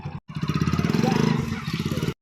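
A motorbike engine runs close by for about two seconds, its rapid, even pulsing throb starting after a brief cut-out, steady and fairly loud.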